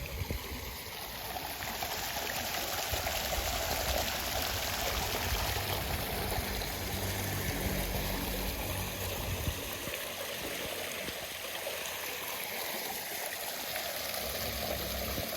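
Floodwater pours from a drained tube well in a flooded village in Jaffna, a steady close rushing flow without break.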